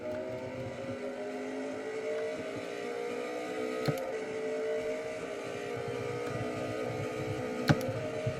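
Race car engine in the NASCAR Racing 2003 video game during a lap, a faint, steady, high-revving whine with layered tones, holding near constant pitch with a couple of soft clicks.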